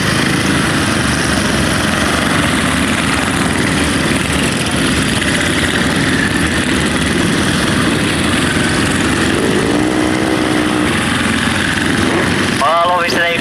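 A grasstrack sidecar motorcycle outfit races past at a 1990 meeting, a loud continuous engine roar over a crowded open-air din, with brief voices near the end.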